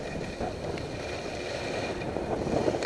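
Steady wind rushing across a groomed ski slope at Stratton, a continuous low roar with buffeting against the microphone and no voices.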